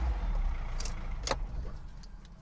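A car's engine starting on a newly programmed key, heard as a steady low engine rumble close by with a couple of brief metallic key-like clicks and rattles, no talking.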